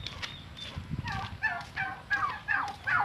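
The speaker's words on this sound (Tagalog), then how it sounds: "So yun guys, patuka tayong pabo." A pet turkey gobbles repeatedly at feeding time, a run of five or six rattling calls at a fairly even pace, close by and clear over faint background noise, with no talking.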